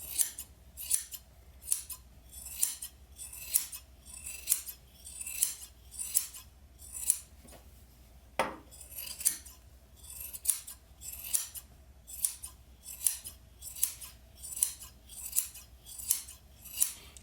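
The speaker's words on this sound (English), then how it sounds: "I'll just grab a pair of scissors and kind of hold them straight across it." Scissors snip through sheepskin fleece in a steady series of crisp, close cuts, about one every second, with no talking.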